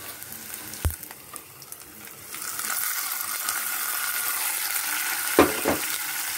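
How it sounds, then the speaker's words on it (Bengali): Slit green chillies frying in oil for a masoor dal, a steady close sizzle that rises and thickens partway through, broken by two sharp clattering knocks. "আর 2টো চেরা কাঁচা লঙ্কা দিয়ে আমাকে এবার এটাকে ভেজে নিতে হবে"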